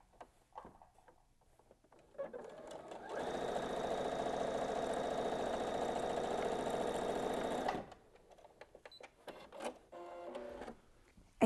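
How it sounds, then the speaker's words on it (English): An electric sewing machine runs a seam in one steady, close whirring burst of about five seconds, framed by quiet clicks and handling of fabric before and after. "So let's head over to the sewing machine."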